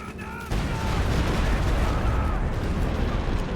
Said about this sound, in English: Katusha returns fire on the pack